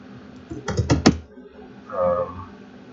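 Keys tapped on a computer keyboard while entering figures into an online reciprocating compressor calculator: a quick burst of several close clicks, then a quieter muffled sound.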